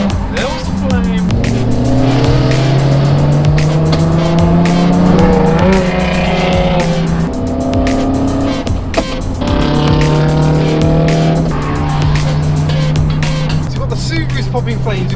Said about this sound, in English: Popping flames, we've got the 370Zs making Chewbacca noises